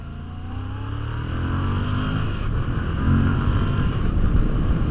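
A Moto Guzzi V85TT motorcycle engine pulls under acceleration with a loud, rising drone and rumble that climbs through the gears over steady wind noise, heard from on board while riding.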